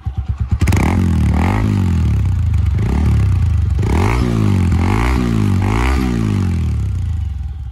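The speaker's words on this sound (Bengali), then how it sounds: "এই আওয়াজের জন্য আজকে আমার বাইকের সাইলেন্সারের পার্টিশনটা গেছে" Motorcycle with a broken silencer partition, its loud, close exhaust popping and burbling in rapid rhythmic bursts as the engine revs repeatedly, with no talk.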